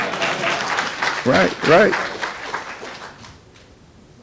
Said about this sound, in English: moms and dad, you want to clap on that one?